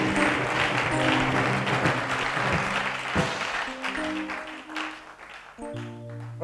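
A church congregation claps and cheers during worship, with steady applause that swells and fades, mixed with sustained organ or keyboard tones underneath.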